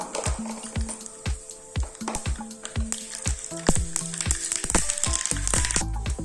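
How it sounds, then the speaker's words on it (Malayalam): Half a teaspoon of mustard seeds hits hot coconut oil, crackling and sizzling up close with a rapid scatter of sharp pops that grows busier and denser as the seeds heat. "എണ്ണ ചൂടായിട്ടുണ്ട് ഇതിലേക്ക് ഒരു അര ടീസ്പൂൺ കടുക് ഇട്ടുകൊടുക്കാം"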